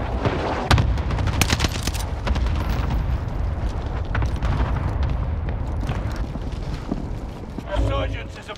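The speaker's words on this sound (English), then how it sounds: "Mark target for airstrike." Airstrike explosions in a video game shooter: heavy booms and rumbling blasts mixed with bursts of gunfire, dense and loud throughout, with a voice speaking over the din.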